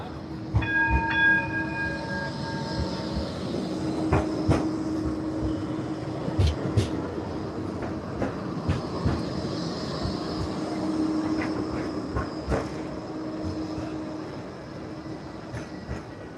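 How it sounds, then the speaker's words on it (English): A Blackpool tram runs along street tracks close by, with a steady rolling rumble, a sharp horn-like tone near the start and repeated clanks and knocks over about sixteen seconds, no talking. "Tram behind me."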